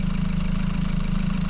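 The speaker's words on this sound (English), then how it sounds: "Right, so we're just gonna shut the engine off," The engine of a small fishing boat idles on the water with a steady, low, throbbing chug, close and unbroken.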